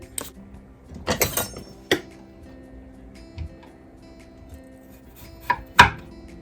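A knife chops potatoes on a cutting board in a home kitchen for homemade mashed potatoes, giving a few sharp, scattered knocks with quiet pauses between them.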